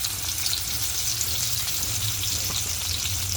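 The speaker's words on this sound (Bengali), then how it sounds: "এখন আমি পরিমাণ মতন পেঁয়াজ দিয়ে দিলাম।" Onions frying in oil for a dried fish curry, a loud, steady close sizzle and crackle with no talk.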